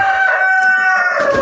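Chickens in a coop at midnight during feeding, with a sustained rooster-like crow and fowl calls held over faint background clatter, close and loud with no talking.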